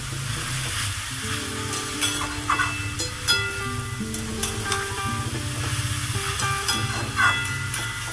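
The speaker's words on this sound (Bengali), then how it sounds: "এবার আমি পেঁপেটাকে মশলার সাথে খুব সুন্দর করে নেড়ে চেড়ে মিশিয়ে দেব" Papaya and spices sizzle in a hot pan while a spoon stirs them, a steady frying hiss broken by scraping and clinking, with a faint melodic tone running underneath.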